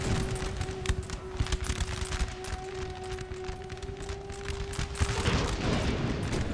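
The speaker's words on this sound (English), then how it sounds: "musket fire" Musket volleys in the video game Napoleon Total War, an Ottoman army firing on Russians, with rapid crackling, popping shots rippling continuously at mid distance over a steady battle drone and occasional louder bursts.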